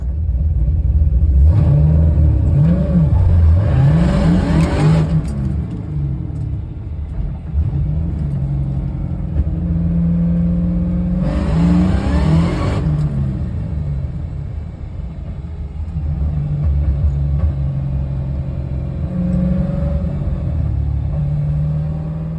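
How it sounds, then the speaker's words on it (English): A car engine just brought back to running idles with a steady close rumble, broken by two strong revving bursts that rise and fall back to idle, with softer throttle blips later. "I'm just gonna get the car running and driving."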